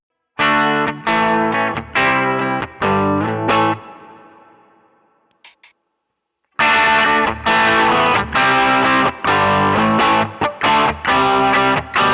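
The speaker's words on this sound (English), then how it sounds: "Here's a sound of the true bypass signal." Les Paul Tribute electric guitar through a true bypass path, heard as strummed chord bursts, then a ringing chord fading to near silence before chopped rhythmic chords return, loud and close with no voices.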